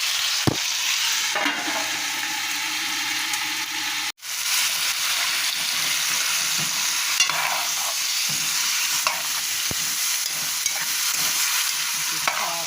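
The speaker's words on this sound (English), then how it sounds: "I saute right in the oil. So I'm just going to give a little stir." Seasoning sauteing in hot oil for garden rice with stew chicken as it gets stirred, making a continuous loud sizzle with occasional spoon scrapes and one brief dropout, no speech.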